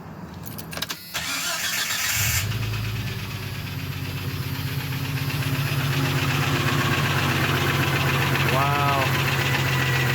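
A Rover 4-liter engine cranks and catches after some handling noise, then settles into a loud, steady idle with an underlying knock, and a brief exclamation from a nearby voice cuts in.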